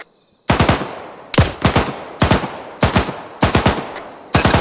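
Bursts of automatic gunfire during a military operation, close and loud, arriving as six separate rapid volleys of several shots each with brief gaps between them, and no talk over them.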